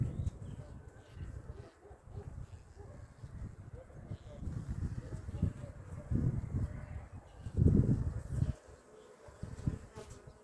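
Honeybees hum in a low, steady drone close by at a weak colony's hive after winter, swelling and fading, with faint background noise.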